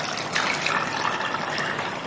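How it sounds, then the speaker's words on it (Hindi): Water splashes and trickles steadily into semolina being made into halwa, a close, continuous pouring sound on its own. "आपने पानी डाल देना है, थोड़ा सा इसको हिलाएं"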